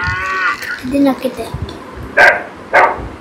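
A children's musical sound book toy plays a recorded dog bark, two short loud yelps near the end, after a brief tune and someone talking over the toy.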